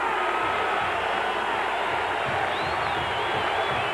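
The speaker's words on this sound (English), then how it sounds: "suddenly, the crowd is alive at Giant Stadium" Crowd noise at Giants Stadium during a 1993 Rutgers vs Duke college football game in the fourth quarter: a dense, continuous roar of a large stadium crowd, loud and sustained, with a faint whistle-like tone near the end.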